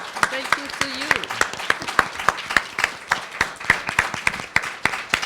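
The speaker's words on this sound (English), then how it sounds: "Let's give a big round of applause to these 3 brilliant people who brought stories from ground up." Audience at a conference on corruption and land grabbing applauds steadily, a dense wash of clapping with sharp individual claps standing out near the microphone throughout, while a voice speaks briefly over it at the start.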